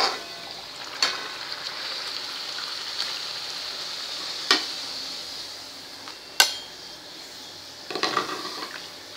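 Jaggery puris frying in hot oil in a kadhai, a steady sizzling hiss throughout, broken by a few sharp clinks and scrapes of a utensil against the pan.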